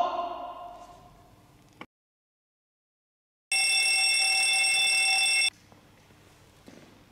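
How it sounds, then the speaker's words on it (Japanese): The bell of an automatic fire alarm system rings loudly and continuously for about two seconds during a training drill, set between quieter stretches and a brief silence. "受信機とベルなどの蓄音響装置が鳴り出します。"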